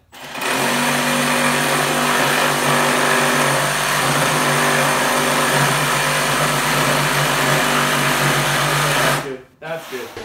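Makita sub compact brushless drill boring through 1 3/4 inch hickory, a loud steady high-pitched motor whine under load running continuously for about nine seconds before cutting off, with voices talking over it.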